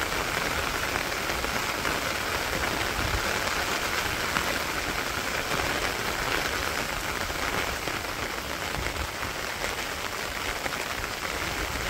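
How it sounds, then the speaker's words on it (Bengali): Steady rain in a village in Bangladesh, a dense, even hiss of drops pattering on surfaces close by, constant and unbroken throughout with no voices. "তো খুবই সুন্দর একটা বৃষ্টি।"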